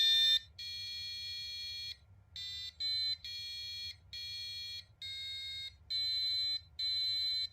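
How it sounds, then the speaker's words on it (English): A buzzer on a breadboard circuit beeps out a simple tune, its shrill electronic tones coming in steady pulses with short gaps between notes, played alone. "plus the buzzer creating the music"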